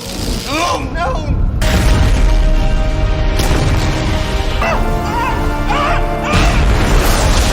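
A burning gasoline explosion tears through a parking garage, a loud sustained roaring blast with crackling debris and rumble filling the space, while voices cry out faintly beneath.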